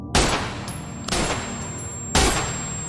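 Three loud, sharp gunshots spaced about a second apart, each cracking suddenly and ringing out briefly before the next.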